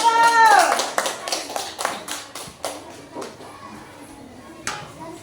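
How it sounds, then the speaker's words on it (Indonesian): A classroom group applauds group 1 with a short run of hand claps, loud and uneven at first, then thinning into scattered single claps, with a voice briefly heard at the start. "ayo tepuk tangan buat kelompok 1"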